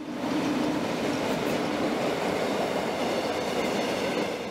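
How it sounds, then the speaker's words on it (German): A Rhaetian Railway train with Einheitswagen I coaches brakes while crossing a bridge over the Beverin mountain river before Bever station, a loud, steady close-up rumble and rush of wheels and wind throughout. "Der bereits abbremsende Zug quert mittels Brücke den Gebirgsfluss Beverin und hält im frisch renovierten Bahnhof Bever."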